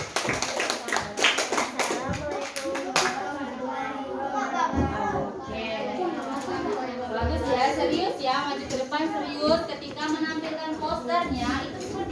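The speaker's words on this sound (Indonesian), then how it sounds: "kasih tepuk tangan untuk kelompok yang maju" A children's class claps together for a group of classmates, with sustained hand clapping mixed with children's chatter and voices in a busy classroom.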